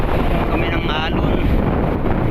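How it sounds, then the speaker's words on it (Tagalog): Strong sea waves batter a small fishing boat out at sea off the west Philippines, a loud continuous wash and rumble with heavy wind buffeting the microphone and a voice faintly present underneath. "pinupugog na naman kami ng malakas na alon ngayon"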